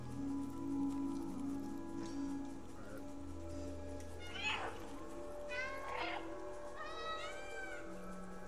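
A cat in a walkthrough of the game Stray gives several short, rising meows near the door over soft rain-like ambience and a low hum, one cry following another at a steady spacing.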